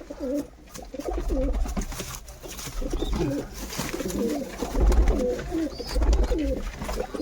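Inside a pigeon loft holding nesting birds and chicks, many pigeons coo continuously in low, throaty, wavering phrases that overlap nearby, loud and unbroken, with no one talking.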